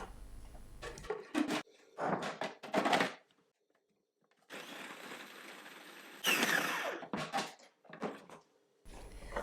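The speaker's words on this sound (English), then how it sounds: "Just process 1 big size onion along with 3 cloves of garlic." A food processor chops one large onion with three garlic cloves in a string of short, loud whirring pulses, a pause, then a longer run followed by more quick bursts.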